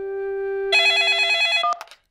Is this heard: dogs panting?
no